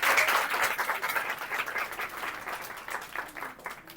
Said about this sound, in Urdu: آئیے کلام خدا کے لیے زوردار تالی بجائیں گے۔